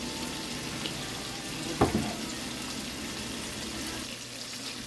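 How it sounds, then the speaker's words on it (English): Opened cans are emptied into a cooking pot on a stove, a steady, moderately quiet rush of pouring liquid broken by a single clunk partway through. "we're going to open our cans and pour them in this pot"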